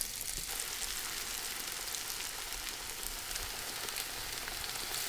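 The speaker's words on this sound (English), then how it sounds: "And you fry." Beer-battered sage leaves fry in hot oil, giving a steady, dense sizzle that stays close and even throughout, with no voices.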